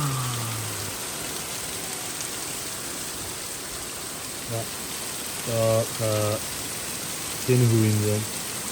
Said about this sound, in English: when the unpredicted monstrous downpour hit